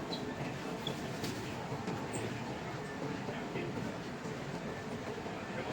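Hong Kong metro train near Wan Chai and Admiralty stations, a steady low rumble with faint rattling heard from inside the station, with a voice murmuring at times.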